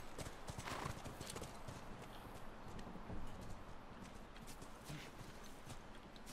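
Horse hooves clip-clop steadily and loudly in the video game The Last of Us, a dense, continuous patter of hoofbeats with game ambience and no clear speech.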